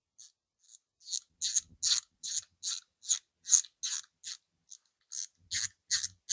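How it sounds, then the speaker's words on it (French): Bolts on the timing gears of a 1275 engine are tightened to torque. A wrench makes about a dozen sharp, close ratcheting bursts in a steady rhythm, separated by brief silences. "vous serrez au couple, là, comme moi"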